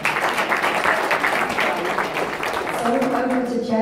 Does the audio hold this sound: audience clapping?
yes